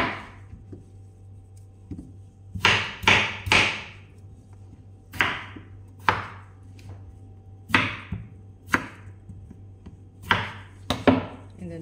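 Knife chopping potatoes on a cutting board for shepherd's pie, heard as close, sharp chops in irregular bursts of two or three, spread over about twelve seconds with quiet gaps between them.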